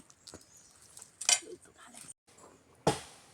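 A metal spoon drops and clinks against dishes in a garden setting, two sharp bright metallic hits standing out among faint rustling and quiet background voices.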